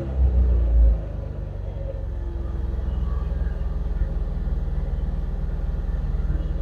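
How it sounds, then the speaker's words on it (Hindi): Car with a high-idle RPM fault, engine held on the accelerator to warm up; a loud, deep rumble that opens with a heavier surge, then settles into a steady, close drone with no voices. "इसको थोड़ी एक्सीलेटर दे के गाड़ी को गर्म करने की कोशिश करते हैं"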